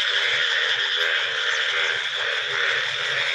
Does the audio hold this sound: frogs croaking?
yes